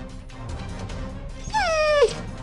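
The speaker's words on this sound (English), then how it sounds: "Upon facing a fierce dog, stand still and the dog will stop attacking." Fierce dog in an educational safety game for kids, giving a sharp whining yelp that glides downward near the end, set over a low steady background.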